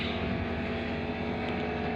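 A drone flying outdoors with a phone mounted on it: a steady, loud, even motor-and-propeller drone that holds without a break and has no talking.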